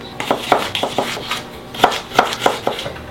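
A knife chops carrots into small dice on a cutting board, giving a quick series of crisp, evenly spaced knocks, close and alone.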